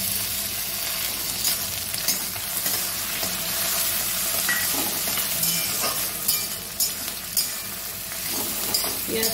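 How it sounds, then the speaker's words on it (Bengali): Onion and tomato fry in a pan for Maharashtrian matki while a spoon stirs them: a steady, close sizzle with frequent scraping and clinking strokes. "পেঁয়াজ টমেটো আর একটু ভালো করে ভাজা ভাজা হবে।"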